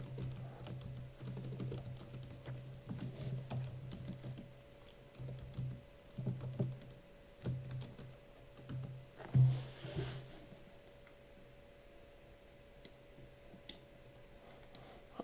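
Fingers tap on a computer keyboard in irregular bursts of soft clicks, close and fairly quiet, with a low steady hum underneath.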